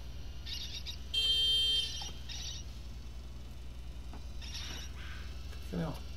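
Electronic beeps and tones from an indie arcade game pop up in short clusters, one a sustained buzzing beep, over a steady low hum with scattered clicks and a rising squeak near the end.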